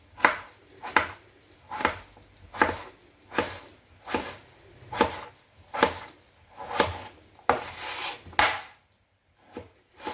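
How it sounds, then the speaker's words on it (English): A knife chops potato into small chunks on a board, giving about a dozen evenly spaced, crisp thuds at a steady rhythm, close and clear, with no talking. "Now cut the potato into small chunks"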